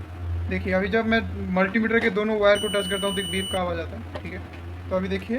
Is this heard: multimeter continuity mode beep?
yes